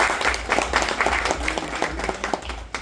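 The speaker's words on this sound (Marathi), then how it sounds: "ज्यांनी कंप्लीट केले त्यांच्यासाठी एकदा टाळ्या झाल्या पाहिजे" Applause for finishers of a 51 km Sangli to Kolhapur ultra run, a small group clapping steadily in a brisk, uneven patter for a few seconds, close and fairly loud with little talk.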